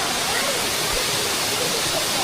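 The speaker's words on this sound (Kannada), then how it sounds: "ನೋಡಿ ಎರ್ಮಾಯಿ ವಾಟರ್ ಫಾಲ್ಸ್." Ermayi waterfall roars in a dense, constant rush of falling water, loud and close with no pauses.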